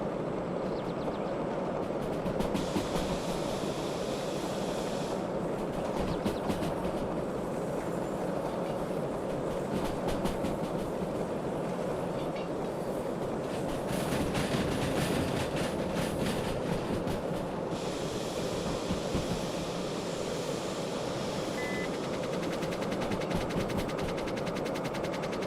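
A steam train runs along the line with a continuous loud rumble and rhythmic rolling clatter, intermittent bursts of hissing steam rising and falling over the steady drive, no voices.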